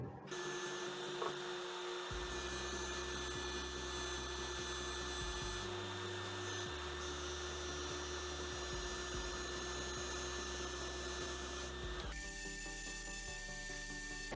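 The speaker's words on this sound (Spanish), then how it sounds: "aquí está nuestra pasta, aquí está nuestro disco de tela de algodón. Vamos a hacer este acabado que queremos" A carpentry tool's blade edge is polished with paste on a spinning cotton-cloth buffing wheel: a loud, steady motor drone with a humming whine that holds throughout and shifts slightly as the edge presses in, with no voices.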